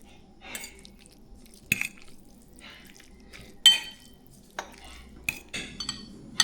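A spoon stirs palabok noodles topped with shrimp, smoked fish and egg. Sparse metallic clinks and scrapes come at irregular intervals against near silence.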